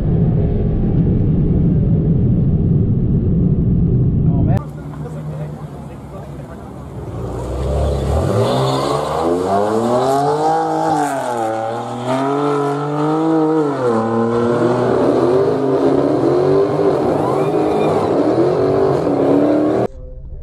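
A car engine, heard from inside a 2020 Honda Accord Sport 2.0T on a track day, revs up and holds a loud, rising and falling drone as cars accelerate side by side, with an abrupt shift in tone early on.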